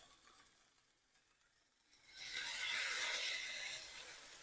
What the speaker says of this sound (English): you can hear that beautiful sizzle